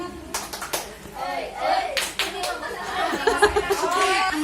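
Group of children and adults in an Indonesian school activity doing a rhythmic tepuk semangat spirit clap, sharp bursts of hand claps in short patterns mixed with chatter and spoken voices close by.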